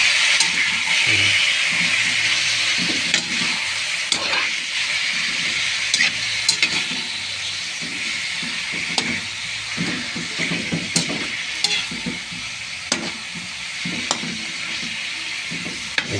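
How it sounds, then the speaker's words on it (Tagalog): Meat is sautéed in a pan with a continuous close sizzle and hiss, broken by frequent scraping and clacking stirs. No one talks. "Gisa-gisa natin."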